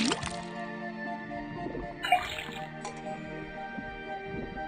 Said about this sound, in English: First thing we do is put the sample of liquid into the cauldron, then tap the faucet.